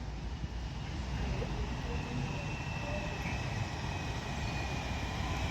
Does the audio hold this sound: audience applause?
no